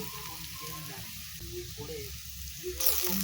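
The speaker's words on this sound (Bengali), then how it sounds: "পেঁয়াজটা ভালো করে ভেজে নেবো নুন দিয়ে দিলাম লঙ্কা কুচানো দিয়ে দিলাম হলুদ গুঁড়ো দিয়ে দিলাম" Sliced onions frying with salt, chopped green chilli and turmeric powder, a steady soft sizzle running throughout with light stirring sounds near the end.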